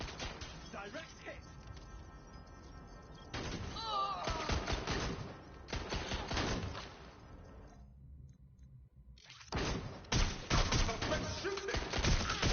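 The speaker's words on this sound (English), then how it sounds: "Suspect shooting." Gunfire in Watch Dogs Legion: rapid volleys of loud, close shots and automatic bursts crackle in dense clusters, then a short near-silent lull before another barrage of shooting resumes.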